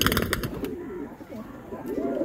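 Sarang puri high-flying pigeons coo in low, rolling warbles that repeat steadily and close by, with faint background noise.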